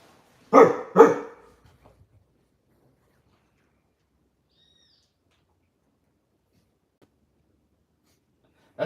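A dog gives two loud, close barks in quick succession near the start, followed by a few faint small sounds and then long silence.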